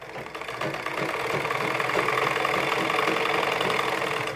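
A sewing machine runs steadily, stitching a seam through fabric for a ladies' suit sleeve, a continuous close mechanical whir lasting the whole stretch with no talking.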